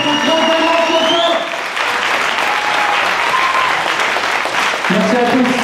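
An audience at the final of an inter-IAE eloquence contest claps steadily and loudly throughout, with a voice and some tonal sound over the first part and again near the end.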